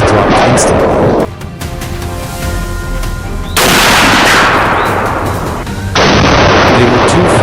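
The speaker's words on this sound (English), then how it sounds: "Just a light squeeze of the trigger, bang. The shot rang out, crisp and clear." Rifle shots fired while hunting wild hogs on a Louisiana farm: two loud, sharp blasts a few seconds apart, each cutting in suddenly and trailing off in a long rolling echo, with a quieter stretch of outdoor noise before them.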